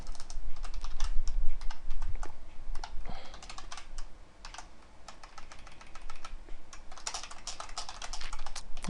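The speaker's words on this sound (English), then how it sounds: "I'm sure you can hear me typing." Rapid, loud clacking of a mechanical keyboard, keys struck in steady bursts close to the microphone with brief pauses.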